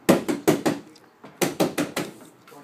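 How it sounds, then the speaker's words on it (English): Knuckles rap on a door in quick clusters of two and three loud, close knocks, a short pause between the groups. "Knock harder, though."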